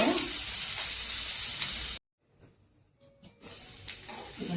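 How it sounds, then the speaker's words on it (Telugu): Capsicum (Simla mirchi) fries in a pan with a loud, steady sizzle that cuts off abruptly, followed by quieter intermittent crackles and stirring as the frying resumes. "క్యాప్సికమ్ అనమాట వేయాలి. ఇదిగోండి వేపుతున్నాను ఫ్రెండ్స్"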